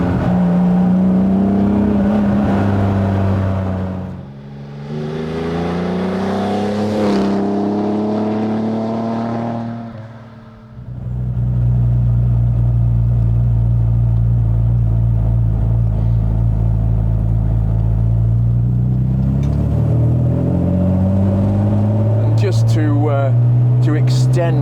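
A classic Aston Martin DB4 is driven hard through a series of curves, its engine rumbling and revving loudly and steadily, with a brief dip as it lifts off before pulling hard again, while someone talks over the noise.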